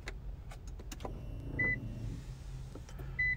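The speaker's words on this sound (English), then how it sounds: "We're going to turn the key to the on position." Nissan GTR with the ignition key turned to on, a short electric whirr of motors and pumps priming followed by two brief chime beeps inside the quiet car.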